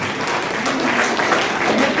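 Scattered audience clapping at a girls' honour ceremony for National Girl Child Day, steady and moderately loud for a couple of seconds, with faint voices in the background.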